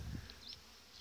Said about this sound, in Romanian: Avem ramele cu albine,